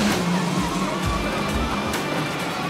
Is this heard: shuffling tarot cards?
no